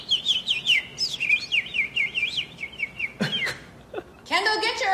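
A person imitates bird noises with a rapid series of high, whistled chirps and warbling trills, loud and close, broken by a brief pause and a final rising burst of whistles.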